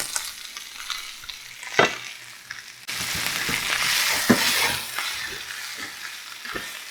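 Potatoes and peppers frying in a pan for a breakfast sandwich, with scraping stir and flip sounds over a steady sizzle that grows louder and denser partway through, with no talking.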